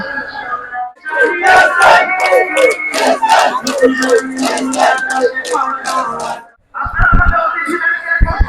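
A huge pro-Palestine rally marching through Shahbag in Dhaka, with a dense crowd roar of many voices and rhythmic chanting that swells loudly, breaks off briefly near the end, then surges back.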